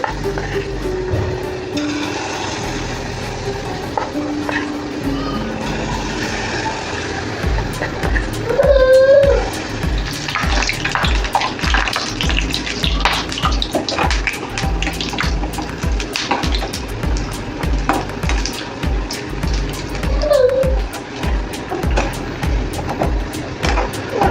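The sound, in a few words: kadhi fritters frying in hot oil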